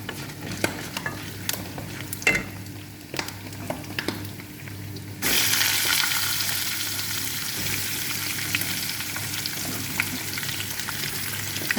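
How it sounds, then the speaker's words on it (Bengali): Cumin, fenugreek and nigella seeds fry in hot oil with light crackles and stirring clicks that swell about halfway into a steady, louder sizzle. "জিরা বাজাটা দেব"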